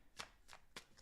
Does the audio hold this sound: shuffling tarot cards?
yes